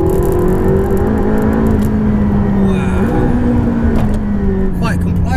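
A McLaren 675LT sports car pulls hard with a loud, steady engine drone rising in pitch, heard from inside the cabin with occupants talking over it.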